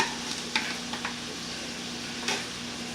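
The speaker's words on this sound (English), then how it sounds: "my purple onions going in." Purple onions drop into a hot pan for fried seafood rice and sizzle softly and steadily, with a few light stirring taps.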